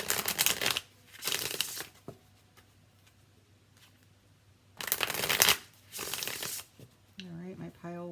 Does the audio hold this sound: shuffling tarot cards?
yes